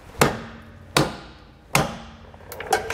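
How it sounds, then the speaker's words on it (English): Three sharp metallic hammer strikes knock against a bolt on a Dexter E-Z Flex suspension kit on a 2021 Grand Design Imagine trailer, spaced about a second apart with ringing decay, then a quicker lighter tap pair at the end. "Just giving it a couple of good whacks until we get a gap"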